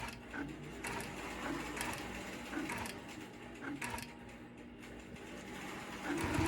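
A computer-guided longarm quilting machine runs steadily, sewing programmed tie-off stitches with a continuous mechanical whir and soft rhythmic ticking throughout.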